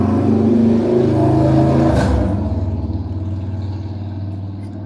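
A motorcycle revs loudly nearby, rising to a sharp peak around the midpoint, then fades away as it passes, leaving a lower engine rumble.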